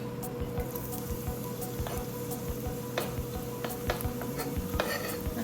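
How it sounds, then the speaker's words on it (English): Onions going into hot oil in a pan for fried fish fillets bring a low sizzle under repeated clinks and scrapes of a utensil against the pan. "Once the oil is hot, go ahead and add your onions."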